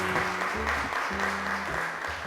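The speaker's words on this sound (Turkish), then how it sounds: "Zeynep'i alkışlarla yerine uğurluyoruz" A studio audience applauds as a child returns to her seat on a Turkish children's show, steady clapping accompanied by short bursts of tonal music stingers.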